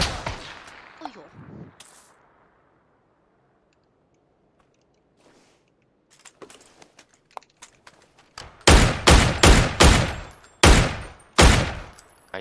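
Rapid gunfire from a video game shooter erupts in loud, sharp bursts during the final seconds, preceded by quieter clicks and thuds and a faint voice at the start.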